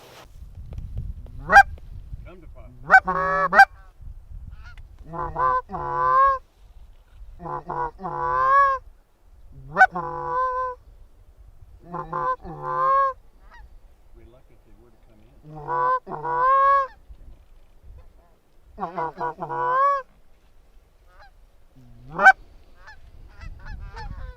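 Geese honk repeatedly in loud bursts during an early-season goose hunt, call after call spread across the clip, fairly close and clear against quiet outdoor background.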